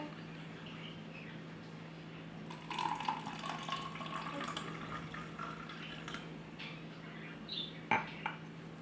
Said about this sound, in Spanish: ahora en uno de ellos vamos a adicionar agua para alterar la concentración de sabor